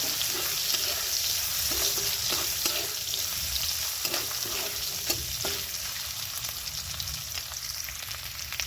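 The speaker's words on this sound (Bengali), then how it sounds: "এবার এই নারকেলটা তেলের সাথে আমি ভেজে দিয়ে দেবো" Small pieces of fresh coconut frying in oil, a steady crackling sizzle with a string of light utensil taps and stirring scrapes in the first half, moderately loud and close.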